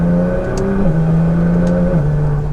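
A car with a dual clutch transmission accelerates with a steady engine drone, its pitch stepping down twice in quick, smooth upshifts, heard from inside the cabin.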